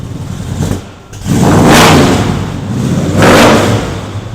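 A Chevelle SS engine with its electric exhaust cutout closed, still warming up, revving in two swells of a muffled, deep rumble, close and fairly loud, with a brief dip in between.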